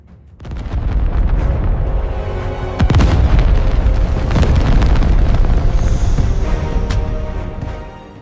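Ottoman Shahi cannon firing at the walls of Constantinople: a heavy booming blast with a sustained rumbling roar and a second loud report midway, very loud and close, with no voices.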